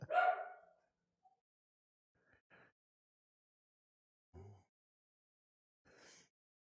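Dogs left alone indoors bark at nothing, one loud close bark opening the stretch, then a few faint, scattered yips and woofs separated by long silences.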